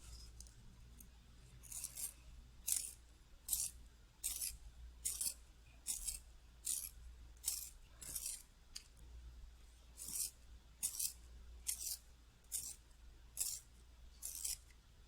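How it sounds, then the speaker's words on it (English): A colored pencil being sharpened during cross-hatching drawing work: a steady run of short, crisp scraping bursts in a quick rhythm, close and fairly quiet, with no talking. "I need to sharpen this pencil"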